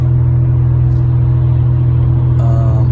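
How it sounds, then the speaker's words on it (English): Noisy car engine rumbling in a steady, loud, low drone inside the cabin while driving, continuous and without talk. "sorry for the noise of the car."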